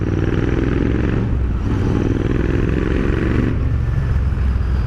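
A motorcycle engine with an AEW 102 aftermarket exhaust idles close by with a deep, throaty rumble and steady rapid pulsing from the exhaust, loud and continuous throughout.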